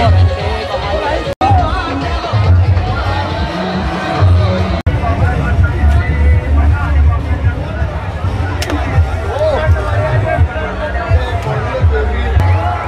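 A dense crowd hubbub fills a busy fair in Saharanpur, the Gugal mela, with a steady wash of many overlapping voices and a low rumble of activity that carries on throughout without a break.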